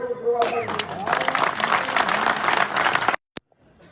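Audience applause at a BJP political rally in Gwalior, a loud, dense crowd clapping for about three seconds that cuts off abruptly, followed by a single brief sharp sound.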